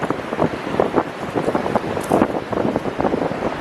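Strong wind blows across a beach at Half Moon Bay, buffeting the microphone with a steady, gusty roar and uneven rushing bursts throughout.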